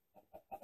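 A Minecraft chicken clucks in a few quick, soft, close bursts, very brief and quiet.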